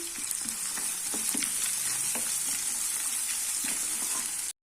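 Dried red chillies and finely chopped ginger frying in hot oil, a dense continuous sizzle with a few soft stirring scrapes, close and steady, then cutting off abruptly.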